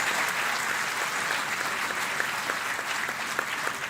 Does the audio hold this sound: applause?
yes